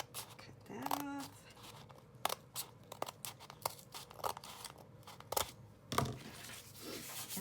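Scissors cut through journal cover material in a string of close, crisp snips and crunchy slices, mixed with paper-like rustling and scraping as the piece is trimmed, with a brief murmur of voice early on.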